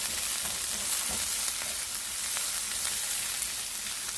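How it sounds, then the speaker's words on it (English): Sliced onion sizzling in a pan over high heat for Ghanaian egg fried rice, a dense steady crackling hiss with light stirring scrapes, close and continuous, no talk. "and sliced onion, and then give it a stir."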